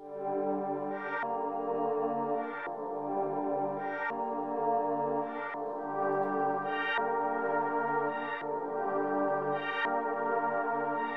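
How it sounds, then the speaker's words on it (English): Dark synth pad from Flex with a halftime effect set to smooth, a soft, continuous harmonic bed with regular brighter swells roughly every 1.4 seconds, playing alone at low level. "to add a darker vibe to the pad, I actually added halftime to it"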